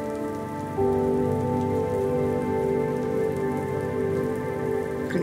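Rain pours on a surface in a dense, unbroken patter that swells a little louder after the first second and then holds steady, with no voices and a soft tonal drone underneath.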